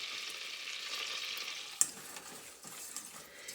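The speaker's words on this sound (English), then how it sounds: "We're going to be making a blonde roux. Our 2 tablespoons of butter is melted. I'm going to add 2 tablespoons of flour." Flour stirred into melted butter in a pan for a blonde roux, using self-rising flour, sizzles with a steady soft frying hiss throughout, broken by one sharp utensil tap near the middle.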